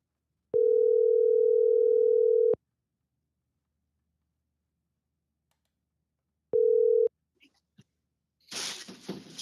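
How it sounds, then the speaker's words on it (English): Two telephone tones: a long steady beep of about two seconds, a pause, then a shorter beep, followed by faint rustling and a quiet breathy voice at the end. "Little dialing music, Paul."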